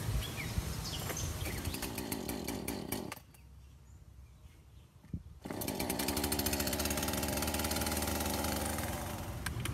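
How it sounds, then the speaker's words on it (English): A chainsaw runs loud and buzzing, drops to a low idle for a couple of seconds, then revs back up to full speed. "I stopped the chainsaw"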